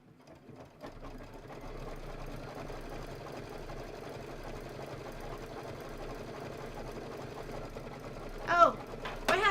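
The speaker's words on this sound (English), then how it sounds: "All right, decorative stitch." A sewing machine runs a decorative stitch on a quilted table topper, a steady close whirring hum that holds for several seconds before a few louder clunks near the end, with a voice talking faintly underneath.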